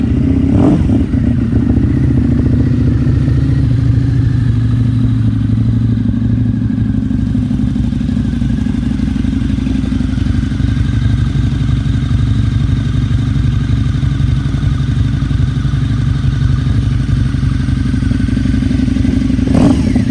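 A liquid-cooled Harley-Davidson Street Rod motorcycle engine idles close by in a steady, loud, low rumble with a faint mechanical clatter, running unbroken throughout.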